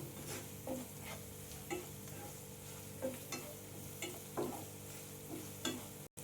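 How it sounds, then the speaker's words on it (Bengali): Ground spices fry with onion, ginger and garlic in a pan for chicken tikka masala: a soft, steady sizzle broken by periodic stirring scrapes, quiet and close, with no talk. "যে ভালো করে আমি মশলাটা পেঁয়াজ আদা রসুনের সাথে ভুনে নেব"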